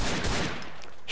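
Dense gunfire in a Garry's Mod roleplay shootout comes as a loud, washed-out burst of rapid shots that fades after half a second, with no talking.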